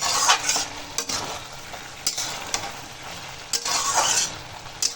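A spoon stirs bottle gourd greens in a sizzling pan after a spoonful of flour goes in, scraping strokes repeating over a steady close frying hiss, no voices.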